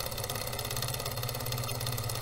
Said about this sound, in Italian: il motore ha iniziato a girare